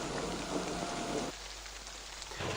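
Steady rain patters on a surface, a continuous close hiss of drops that dips briefly and returns, with no voices.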